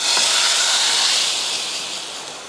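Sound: hot dal tadka tempering sizzling as poured into dal

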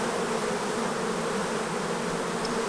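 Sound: honey bee swarm fanning wings

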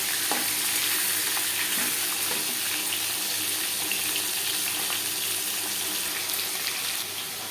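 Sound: frying chela fish heads in oil

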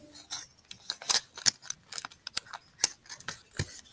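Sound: adhesive tape being applied to paper discs

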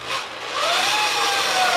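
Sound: power drill drilling into wooden furniture

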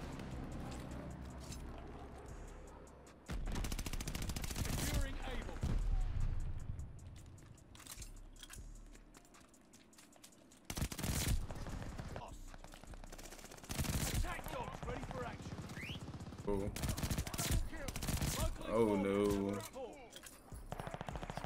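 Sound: gunfire in video game Call of Duty Vanguard

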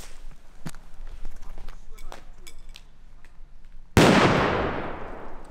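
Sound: TAGiNN TAG 19 airsoft grenade exploding

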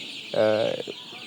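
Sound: chickens clucking

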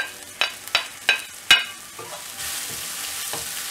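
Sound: tomatoes frying in a pan

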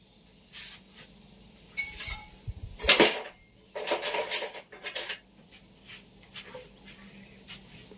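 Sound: mashing Nam Wa bananas with a fork

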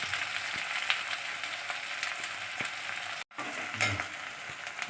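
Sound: curry leaves crackling in hot oil

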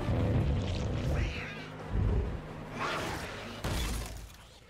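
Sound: cat sounds in Arcane episode

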